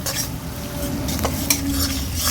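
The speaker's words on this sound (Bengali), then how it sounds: "রসুনটাকেও ভালো করে এবার আমি নেড়ে চেড়ে নেব।" Crushed garlic and chopped onion are stirred in a pan for a kalmi greens ghonto, with steady scraping and clinks of a utensil against the pan over a low background sizzle.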